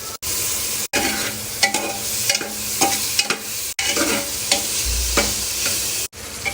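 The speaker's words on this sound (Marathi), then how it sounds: "आता मी त्याच्यामध्ये सोयाबीन टाकून देणार." Soybean chunks sizzle loudly in a pan of tomato masala while a spoon stirs and scrapes through them, a dense continuous frying hiss broken by a few brief gaps, with no talking.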